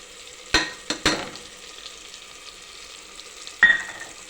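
Spices sizzling in a hot pan for sambar rice (turmeric, sambar powder, salt, red chilli powder, coriander powder, asafoetida) are stirred with a few sharp scrapes near the start and another near the end, under a quiet steady fry.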